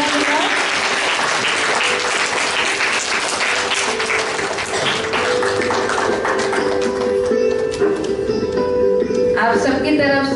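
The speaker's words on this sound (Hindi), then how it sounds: "आप दोनों दीदियों के लिए आप सभी बच्चे जोरदार तालियां बजाएं।" Loud, dense clapping from a hall full of children welcoming two guests at a National Girl Child Day gathering, sustained throughout, with voices rising over it near the end.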